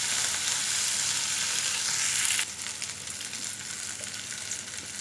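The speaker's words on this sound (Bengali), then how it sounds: "দিয়ে দিচ্ছি কুচি করা পেঁয়াজ 3 পিস" Chopped onions sizzling on high heat in a pan for chicken sizzling, a bright hiss that drops to a softer steady fry partway through, no talking.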